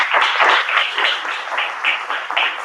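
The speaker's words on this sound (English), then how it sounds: "Can we get an applause for that?" An audience at a community organization's 50th anniversary event breaks into steady applause, a dense, lively patter of many hands clapping without talk.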